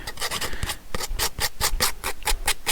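Scissors edge scuffing and roughening the edge of paper for a collaged postcard: a quick run of about a dozen dry, rasping strokes in a steady back-and-forth rhythm, close up and fairly loud, with no voices.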